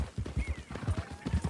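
Horse hooves clip-clop in a steady rhythmic gait in Red Dead Redemption 2, close and moderately loud, with a faint whinny-like tone threading over the steps.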